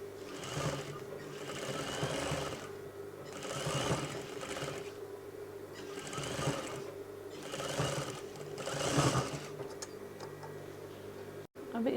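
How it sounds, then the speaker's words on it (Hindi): A sewing machine stitching a velvet shrug jacket, running in repeated short bursts of rapid rhythmic clatter separated by brief pauses, close and clear with no speech. "अब इसके ऊपर लगा लेंगे हम पॉइंट की सिलाई"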